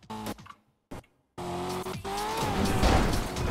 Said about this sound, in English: Hey, ram your car.